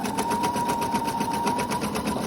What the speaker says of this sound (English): Lower your needle, and just start sewing.